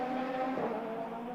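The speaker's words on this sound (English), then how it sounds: "You can hear the engine revving there" A Toyota Corolla rally car with a Millington engine of some 300-plus horsepower revs steadily at a Galway tarmac rally stage, a sustained loud engine drone with a brief swell midway.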